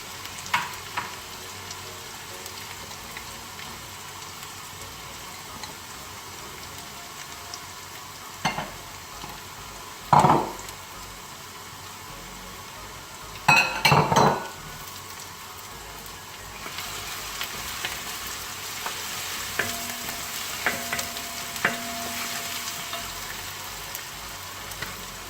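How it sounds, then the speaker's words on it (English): Chopped ginger and garlic fry and get stirred in a pan for Kuttanadan duck curry, a low steady sizzle broken by a few sharp scraping stirs of the utensil. "Just stir it and add the chopped garlic into it."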